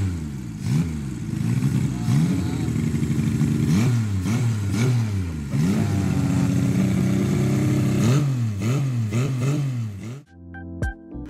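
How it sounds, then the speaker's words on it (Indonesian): Three-cylinder touring motorcycle engine revving repeatedly, each throttle blip rising and falling in pitch in quick succession, close and loud, ending with a brief change in tone at the close. "kita tes dulu gimana nih suaranya nih 3 silinder"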